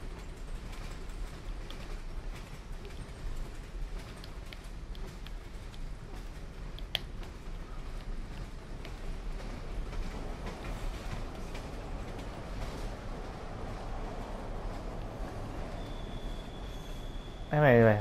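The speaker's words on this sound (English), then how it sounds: "I mean, I can't exit a moving train." A moving train in the game Bendy and the Dark Revival rolls along as a faint, continuous rumbling clatter with scattered ticks, and a brief squealing tone rises near the end.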